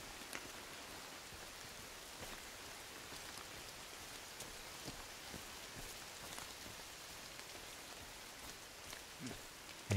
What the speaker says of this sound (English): Our first rain on the island.